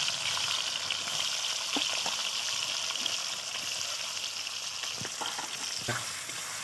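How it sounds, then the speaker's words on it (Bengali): Chopped onions frying in hot oil with bay leaves and dried red chilli for a chicken curry: a steady, bright sizzle throughout, with a few soft clicks of a spoon stirring, no talking. "এবার পেঁয়াজ কুচুনো দিয়ে দিলাম।"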